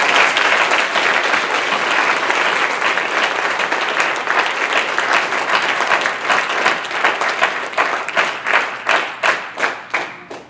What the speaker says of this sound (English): give yourselves another huge round of applause